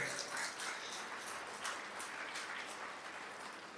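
An audience at a Hindu gathering applauding, with dense, fairly faint clapping from many hands that holds steady throughout.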